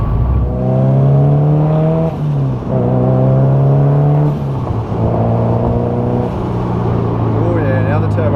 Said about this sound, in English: Oh yeah, now the turbo's starting to sound good.